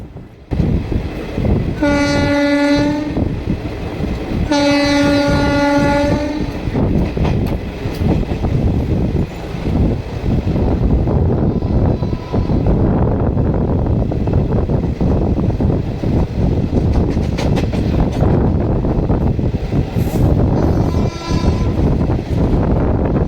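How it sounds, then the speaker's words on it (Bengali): A train horn blasts twice, long blares, then the Chakradharpur–Bokaro–Howrah Express rumbles and clatters past close alongside for the rest of the stretch. "এখন যাচ্ছে আমাদের পাশ দিয়ে চক্রধরপুর বোকারো হাওড়া এক্সপ্রেস।"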